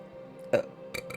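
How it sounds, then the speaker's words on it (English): A short, close burp from a person, with a lighter second eructation following a moment later over a faint low hum. "I do burp when I release"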